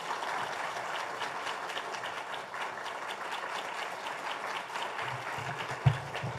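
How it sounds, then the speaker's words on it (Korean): Church congregation applauding to welcome a visiting preacher at a Sunday service, a dense, even wash of many hands clapping at moderate distance, fairly quiet and sustained throughout, with a brief thump near the end. "나오실 때 우리 힘차게 우리 박수로 환영하도록 하겠습니다."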